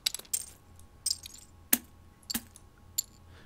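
Coins clink and drop in Tabletop Simulator during a card game, a string of bright, sharp metallic taps and small jingles spaced irregularly, fairly close and quiet, with no voices over them.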